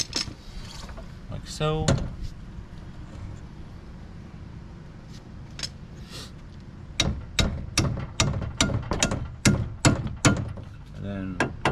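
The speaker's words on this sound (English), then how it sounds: "take your little hammer, tap it in, get it started" Light hammer taps seat a strut component on a 2010 Ford Focus during a suspension job: a quick series of sharp metallic knocks near the end, after scattered clunks and a brief spoken remark.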